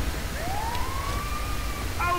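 A distant ambulance siren in GTA 5, a single rising wail that climbs and holds, then a brief warbling tone near the end, heard over a constant low rumble of traffic.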